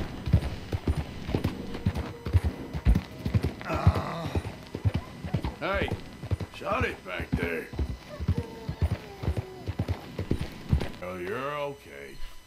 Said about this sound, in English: I don't know why I like my horse a lot.